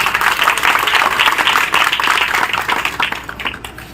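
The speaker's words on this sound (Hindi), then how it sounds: "आप स्वागत में जोरदार तालियों से आपका स्वागत करें" Loud, steady applause from an audience of students fills the whole stretch at a college National Service Scheme camp closing ceremony, dense and continuous before thinning slightly near the end.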